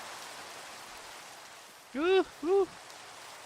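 Steady rain pattering across a Minecraft world, a soft, even wash of noise filling the whole stretch, with someone speaking briefly over it near the middle.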